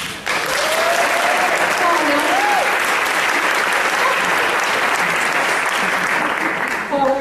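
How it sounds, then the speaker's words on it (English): Loud, sustained audience applause for Paula Nelson at a PEN kickoff event, a full room clapping continuously with brief voices rising above the clapping early on. "I want us to give a round of applause to Paula Nelson."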